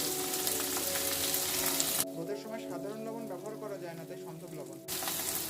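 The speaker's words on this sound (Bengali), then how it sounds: "সব কিছু একসঙ্গে একটু তেলে নেড়ে নিচ্ছি" Boiled potato pieces, salt and peanuts are stirred together in hot oil in a pan for sabudana khichdi, giving a steady close sizzle with soft scraping that continues throughout.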